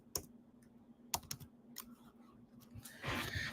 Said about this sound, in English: I'm going to type in process.